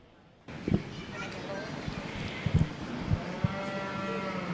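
Dairy and beef cattle at a county fair show give a few low moos and shuffling sounds amid the murmur of a busy show ring, with voices talking through it.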